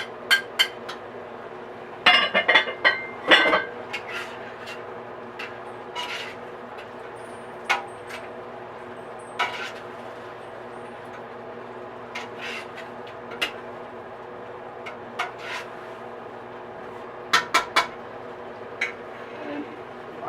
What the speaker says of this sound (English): Now we're going to get our nice browned ham in. Mix it up a little bit.